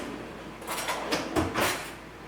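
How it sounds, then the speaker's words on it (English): A soft-close kitchen cupboard door in a beachfront condo glides shut with a few faint, soft swishing and thudding sounds in a quiet room. "easy close cupboards."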